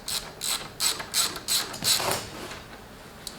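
Ratchet wrench clicking in several short bursts while pulling air-conditioning hoses and parts off a racecar, close and crisp with pauses between strokes.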